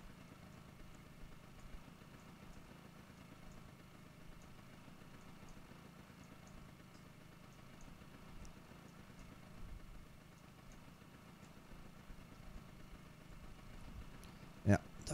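Boat outboard motor idling in the fishing game Russian Fishing 4, a steady low hum running continuously at a moderate level, ending in a brief sharp click near the end.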